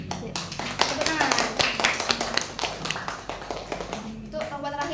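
A classroom of pupils claps together in quick, dense, overlapping bursts that hold steady for several seconds, with children's voices mixed in and fading near the end.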